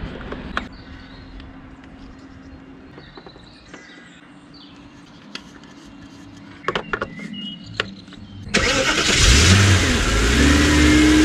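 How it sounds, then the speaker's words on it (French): Audi A8 D2 with a 4.2-litre V8, a steady low engine hum with scattered clatters that rises into a loud, sustained rev near the end, with no talk over it. "je vais faire tourner la voiture"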